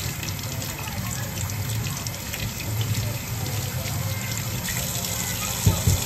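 Taro pieces rinsed under a running kitchen tap, a steady close gush of water with a short splash near the end, no talk over it.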